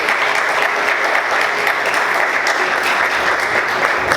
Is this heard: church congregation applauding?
yes